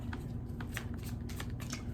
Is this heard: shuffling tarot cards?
yes